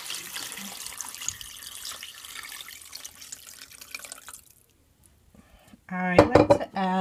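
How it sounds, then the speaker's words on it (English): Tap water runs in a broad steady rush into a pot of bones and onion for bone broth, fading out after a few seconds. Then come a few close clanks of a pot or dish and a brief voice. "Then you just cover with water."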